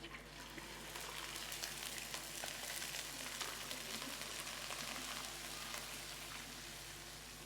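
Paste made from two onions fries in hot oil with cumin, making a steady, soft, close sizzle that holds evenly throughout with no talk.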